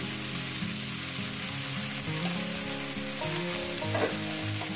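Green chilli and drumstick flowers fry in a pan with a constant bright sizzle, close and steady, with faint stirring scrapes and no talk.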